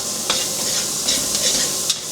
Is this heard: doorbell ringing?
no